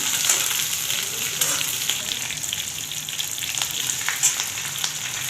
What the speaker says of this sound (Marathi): मिरची तळायला टाकून घ्यायची मिरची निम्मी तळली गेली की मग त्यामध्ये लसूण आणि शेंगदाणे ॲड करायचे